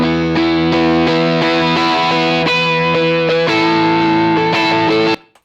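Two copied electric guitar tracks play back with plugins bypassed, sounding as a loud, sustained run of chords and notes that ends abruptly after about five seconds.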